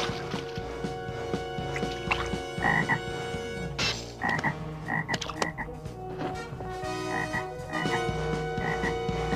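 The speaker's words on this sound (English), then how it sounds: "He's called down a plague of frogs." A plague of frogs in an animated Bible story about Moses in Egypt, with many croaks overlapping in a busy, continuous chorus over a steady background.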